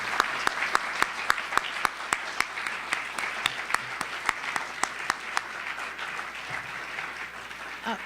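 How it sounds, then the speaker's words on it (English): An audience at an opera conference's director-designer showcase gives the artists a warm round of applause, steady sustained clapping with sharp individual claps standing out near the front, gradually thinning toward the end. "please join me in a warm round of applause for all of these artists and their exciting"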